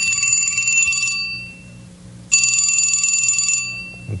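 A telephone bell rings in two bright, sustained bursts, about a second each with a pause between, loud and close against a low background hum.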